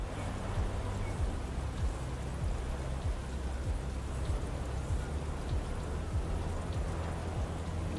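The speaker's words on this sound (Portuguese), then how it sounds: "Como é que tem a chuva no carro?" Steady rain drumming on a car in The Crew Motorfest, an even wash of drops with faint low thumps throughout, moderately quiet, with no voices.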